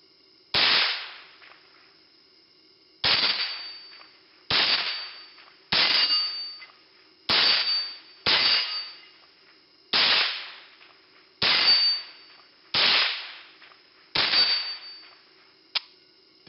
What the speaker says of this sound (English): you can just watch me shoot some of the various targets